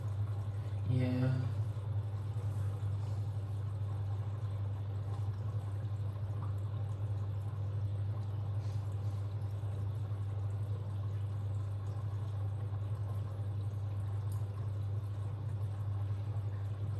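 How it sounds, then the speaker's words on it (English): A Beko WTG washing machine slowly fills with water during a lingerie cycle, producing a quiet, steady flow over a low motor hum, with a brief splash near the start. "whenever the washer fills up, it fills quite slowly"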